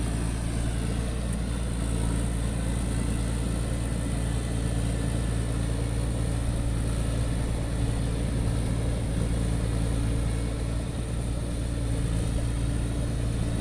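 Engine and hydraulic pump of a P11C rotary tiller with a large 320-horsepower engine run in a steady, even low drone, close and unbroken, with a faint high whine on top.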